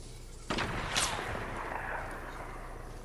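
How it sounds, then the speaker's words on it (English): Fortnite gunfire rings out in a sudden loud burst, followed by a second sharp crack about half a second later. A dense, rumbling wash of noise then lingers and slowly fades. "They're shooting blind into the bush."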